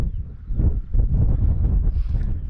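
Gusty wind buffeting an exposed hillside campsite during a storm, low rumbling blasts battering the microphone in uneven surges, loud and continuous with no voices.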